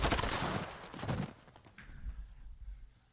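Rapid automatic gunfire from a Call of Duty esports match, dense bursts of shots at the start that thin out into scattered, quieter pops and low thuds.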